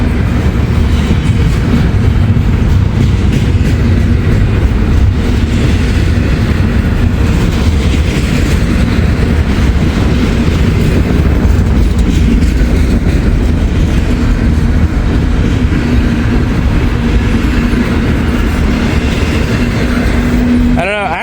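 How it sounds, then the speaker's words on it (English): A freight train rolls past up close and loud for the full stretch, a steady heavy rumble of wheels and rail cars with clickety-clack rhythm throughout, ending abruptly. "I think maybe this is a train that goes down south"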